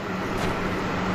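A car passes in a horror video game, a steady broadband vehicle rumble swelling slightly near the middle over a low background drone, with no talk.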